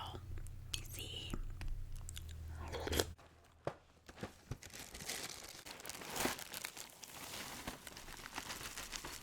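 Cheerios Pumpkin Spice cereal is crunched and chewed close to the mic in soft, irregular bites, with quiet whispered talk alongside.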